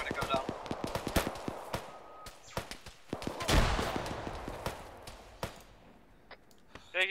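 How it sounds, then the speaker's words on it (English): Gunfire in an ArmA military firefight: scattered sharp shots and short bursts, some close and loud, others distant, with a heavy blast in the middle amid ongoing battle noise and people talking. "Taking fire from unknown destination."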